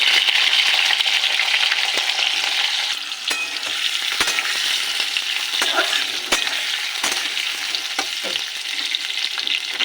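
Potatoes fry in hot oil with nigella seeds in a hot wok, a steady loud sizzle with crackling pops and occasional sharp clicks of stirring throughout, no voices.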